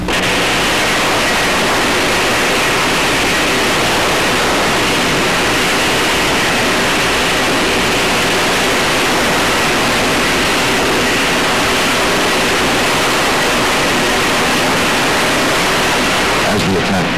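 Fire hoses spray water onto a burning propane tank during an LP gas emergency, making a loud, steady rushing hiss that holds without a break for the whole stretch.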